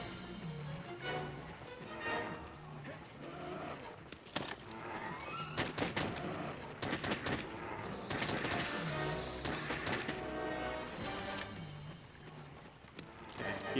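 Heavy bowgun fire in Monster Hunter World on Xbox One X, sounding as bursts of rapid, repeated shots in rhythmic volleys, with loud sharp cracks clustered in the middle and quieter stretches between them.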